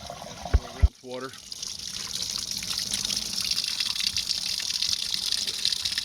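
Rinse water pours steadily into a tiny washing machine for a tiny house, a continuous nearby gushing fill that runs alone after two short knocks and a brief voiced sound at the start.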